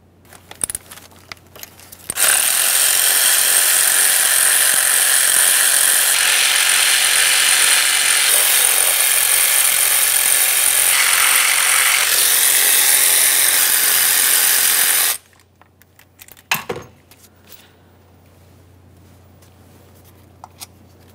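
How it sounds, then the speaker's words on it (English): Ratchet wrench loosening the intake manifold mounting bolts on a Toyota Sienna 3.5L V6, a loud, steady, continuous clicking run lasting about thirteen seconds, followed by a few scattered, softer clicks and taps. "Now we can start removing each of those 6 mounting bolts."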